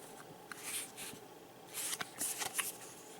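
Paper instructions and a small tech spec card from a Transformers Titans Return Legends Rumble toy box being handled, giving soft papery rustles and flicks in a few short bursts, close and fairly quiet.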